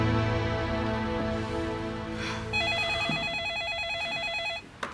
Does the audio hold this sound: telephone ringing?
yes